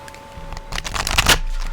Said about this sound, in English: I am just going to start pulling cards without...